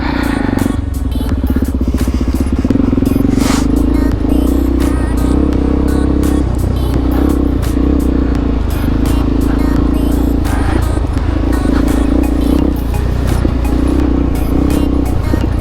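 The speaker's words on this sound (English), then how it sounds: "I just started riding my motorcycle today." Motorcycle engine droning steadily while riding out on the road, a loud close rumble with wind buffeting and a slight rise and fall in pitch, continuous throughout with no talk.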